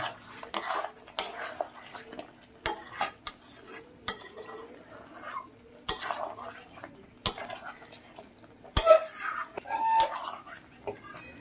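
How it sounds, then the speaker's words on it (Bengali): Mutton being stirred and fried down in a pot, with repeated scraping clinks of a metal spoon against the pot and soft background sizzle, interspersed with a voice talking. "এইভাবে খুব ভালো করে মাংসটা আমি ভালো করে কষিয়ে নেব।"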